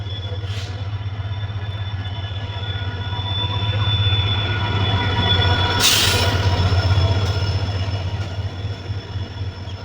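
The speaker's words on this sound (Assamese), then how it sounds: "তাৰপিছত এয়া ট্ৰেইনখন পালেহি" A train rolls past at close range with a steady low rumble of wagons and wheels, brief squeals and clanks, swelling louder midway and easing off toward the end, with no talk.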